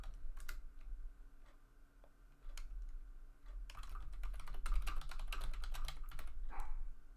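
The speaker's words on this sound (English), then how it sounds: "All you hear is typing!" Steady typing on a computer keyboard, close and fairly quiet, with scattered keystrokes at first building into a dense, rapid run of clicks toward the end.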